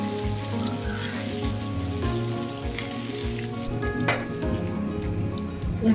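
Koi fish fry in a pan of hot oil with a loud, continuous close-up sizzle like rain on a surface. Occasional sharper pops and stirring scrapes break through, with no talk.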